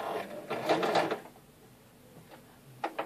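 A sewing machine stitching through several layers of material: a short burst of mechanical stitching, a pause, then a couple more brief clattering stitches, close and fairly quiet.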